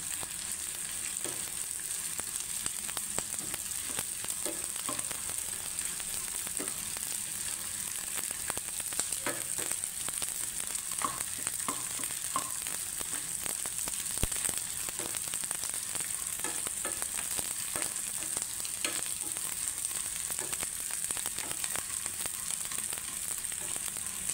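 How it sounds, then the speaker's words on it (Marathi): Raisins roast in ghee for dink and kharik laddu, a continuous close frying sizzle with scattered small pops and crackles throughout, no talk. "मनुके तुपावर भाजून घेतले"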